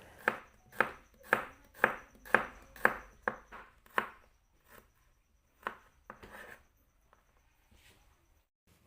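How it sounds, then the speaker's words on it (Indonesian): A knife slices thinly through three garlic cloves on a cutting board, giving a quick, steady run of crisp close chops that slows to a few scattered cuts and then stops. "3 siung bawang putih diiris tipis juga."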